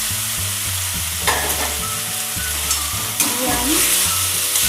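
Pre-fried potatoes are stirred into a sizzling spice masala in a pan, with a steady frying hiss and repeated scraping stirs, and a brief spoken phrase partway through.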